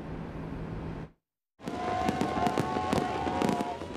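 Fireworks go off in a display: a stretch of rumbling crackle cuts to a brief silence, then resumes with dense popping and sharp crackling bursts at moderate distance.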